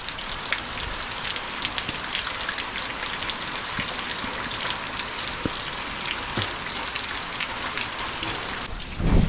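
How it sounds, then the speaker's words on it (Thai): Heavy rain pours down steadily as a dense, continuous hiss, with scattered louder drops striking nearby surfaces throughout, then stops abruptly just before the end. "ฝนตกบ่หยุดบ่เซา 5 มื้อแล้วติดกันเลยฝนตก"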